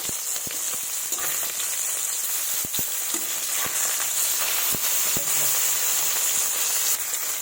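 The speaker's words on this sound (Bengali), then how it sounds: "এদিকে আমার মাছটা ভাজা হতে থাকুক" Fish pieces shallow-frying in oil in a pan, a dense continuous sizzle with occasional sharper crackles and stirring clicks, close and loud with no voices.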